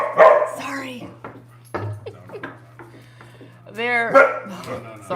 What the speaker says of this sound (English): the one you might be hearing bark right now